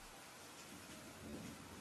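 Steady rain falling at night, a soft, even wash of hiss with a faint low rumble underneath, continuous and without voices.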